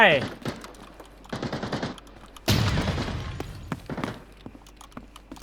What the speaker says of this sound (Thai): มีคนยิงกันอยู่